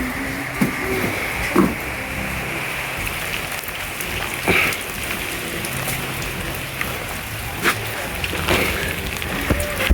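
Steady rain pours during stormy weather, a dense even hiss broken by occasional louder drips and knocks close by, with no talk.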